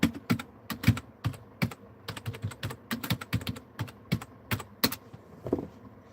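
Clicky keystrokes on an old computer keyboard, irregular bursts of sharp taps in quick clusters with brief pauses, close and dry with no talking.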